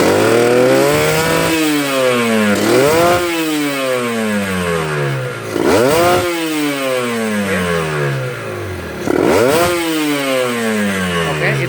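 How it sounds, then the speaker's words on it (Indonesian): A Kawasaki Ninja two-stroke motorcycle, engine still cold after a few hours' rest, revs up in repeated quick blips from low RPM, each rising whine falling back before the next; loud and close, with no talk. "Kita lihat RPM-nya lincah banget. RPM power bawahnya ya, putaran bawahnya."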